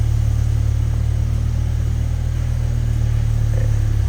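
A BMW M6 V10 engine idles steadily in a workshop during a restoration, a loud, even low rumble with a constant hum and no revving, running alone without talk.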